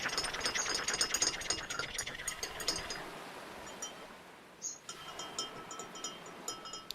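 A spoon stirs a blue Hawaiian cocktail in a glass, giving rapid rattling clinks and scraping that are busiest for the first few seconds, then thinner, scattered taps near the mic with no talk.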